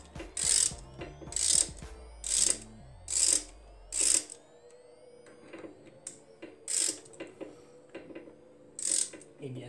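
A ratchet wrench tightens motorcycle clutch cover bolts, giving short bursts of rapid metallic clicks, about eight close, distinct strokes separated by pauses, with a faint low hum fading out midway.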